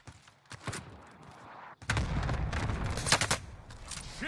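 Heavy gunfire in a video game: bursts of rapid shots and sharp cracks, a brief lull, then a loud dense barrage of overlapping fire up close.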